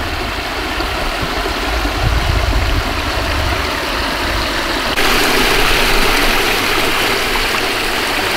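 A waterfall at Salamander Cave along Snake Road in Shawnee National Forest, a loud, steady broadband rush of falling water heard close up with no talking.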